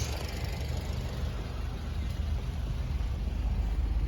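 A high-mileage Honda Civic Si on its original stock exhaust runs steadily, a low, even engine rumble with broad exhaust hiss, moderately loud and alone with no talking.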